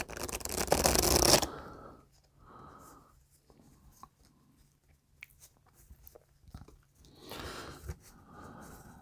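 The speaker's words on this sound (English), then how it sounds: "So you take half, give it a riffle." Riffle shuffle of half a deck of playing cards during a blackjack counting practice session: a loud dense burst of fluttering card clicks at the start, then quieter handling sounds and soft taps, with a brief second flutter near the end.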